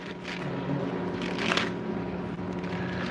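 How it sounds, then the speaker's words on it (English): Pages of a Bible rustle and flip during a church reading, soft papery crackles and a louder riffle midway, with several people turning pages at once. "I hear pages turning."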